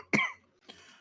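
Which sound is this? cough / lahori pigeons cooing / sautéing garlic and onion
cough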